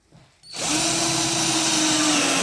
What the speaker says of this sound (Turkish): Ayaklara üçer tane vida atmanız kafidir.